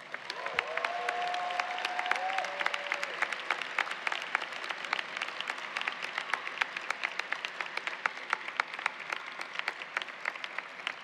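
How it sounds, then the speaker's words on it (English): Audience applause at a college commencement ceremony, a steady wash of many hands clapping in a large venue for about eleven seconds, with a brief sustained musical tone near the start. "I want you to give them a round of applause."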